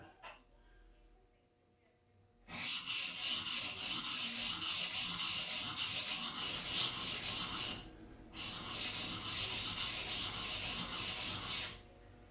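An old block plane iron being sharpened to raise a burr, two long bursts of steady abrasive rubbing strokes, close and fairly loud, separated by a short pause and a quieter lead-in.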